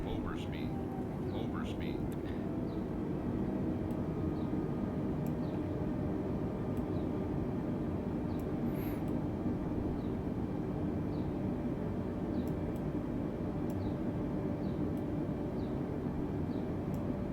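Steady, droning engine of a light airplane climbing in Microsoft Flight Simulator 2020, with a constant broadband rumble that holds level throughout and occasional faint clicks above it.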